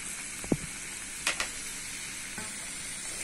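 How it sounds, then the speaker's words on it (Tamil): Vegetables sautéing in butter for paneer butter masala give a steady low sizzle, broken by a few sharp spoon clinks against the pan. "பட்டர்லயே லைட்டா வதக்கிட்டு"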